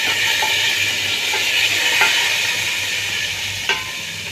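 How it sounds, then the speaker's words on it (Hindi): Hot tadka tempering poured into pakoda kadhi hisses in a steady, loud sizzle, with a few faint clinks of a spoon or pot over the continuous frying noise, no talk. "तो अब हम इसे तड़का लगाएंगे।"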